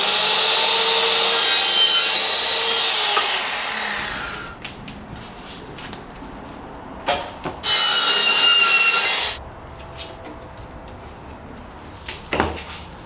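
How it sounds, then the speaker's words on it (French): A flush-cut hand saw cuts through door rails while a terrace door is being replaced. Two loud, rapid bursts of rasping back-and-forth sawing come close up, separated by quieter knocks and handling taps. "Découpe proprement les rails avec une scie à rabattre."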